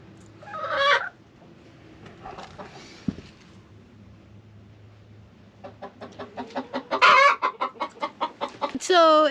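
Chickens cluck and squawk nearby in a homestead chicken yard in Alabama, a quick run of rhythmic calls, with a louder burst at the start and a loud squawk at the end.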